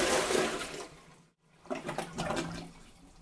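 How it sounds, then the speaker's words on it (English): A bucket of water poured quickly into a toilet bowl rushes in a loud surge, stops after a short gap, then gurgles and splashes as the bowl drains. "Get a bucket of water and pour it quickly."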